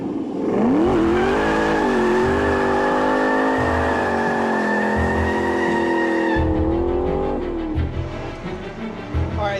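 A Noble M600 supercar engine roars at high revs while the car takes a corner at speed, its pitch climbing and holding steady before a gear change near the end.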